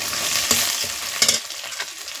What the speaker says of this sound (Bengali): রসুনটাও ভাজা হয়ে গেছে এবার আদা বাটাটা দিয়ে দিচ্ছি